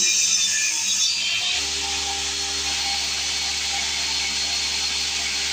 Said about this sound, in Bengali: এই মুহূর্তে যে মেশিনটি দেখতে পাচ্ছেন একটি কাউনের সার্কুলার